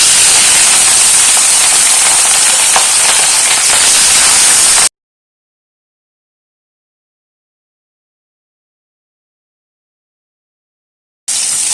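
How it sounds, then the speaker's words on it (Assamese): Fish dropped into smoking-hot oil in a wok for an Assamese fish curry gives a loud, steady hiss for about five seconds, then cuts to silence before the hiss briefly returns at the end. "এতিয়া আমি মাছখিনি দি দিম"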